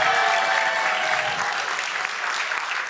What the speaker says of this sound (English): give me a round of applause, please.